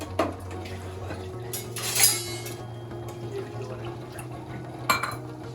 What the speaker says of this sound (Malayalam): കുറച്ച് വെള്ളം ഒഴിക്കാം.